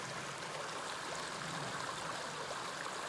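A small side stream running into Eagle Creek in a canyon of the Sipsey Wilderness in February, a steady, broad rush of flowing water that holds even and unbroken throughout, with no voices.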